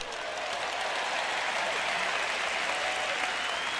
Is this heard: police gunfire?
no